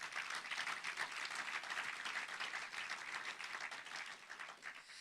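Congregation in a church applauding together, a steady wash of many hands clapping that stays fairly faint and even throughout with no talking over it.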